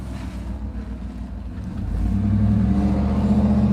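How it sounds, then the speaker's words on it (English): A big old truck engine rumbles low and steady, then swells louder and heavier about halfway through as it roars nearer, with a constant deep drone and some wind noise. "He went out, and now he's coming back with his big old truck."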